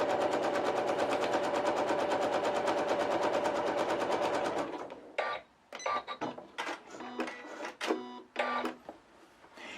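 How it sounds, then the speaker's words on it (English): Bernina sewing machine running a 3 millimeter straight stitch in a steady rapid whir for several seconds, then stopping into scattered clicks and handling noises, close by. "So we're just going to do a quick 3 millimeter straight stitch."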